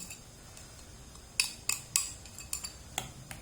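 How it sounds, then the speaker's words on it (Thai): A bowl is picked up and set down in a Thai kitchen while making a crab-stick salad roll with seafood dipping sauce, giving a short run of light clinks and taps on ceramic or metal, close and fairly quiet, with no talking. "เราเปลี่ยนถ้วยดีกว่าเนาะถ้วยนี้มันเล็กคนยากนิดนึง"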